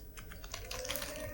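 Quiet close keystrokes on a Mac computer keyboard, a short flurry of soft irregular clicks with no talking.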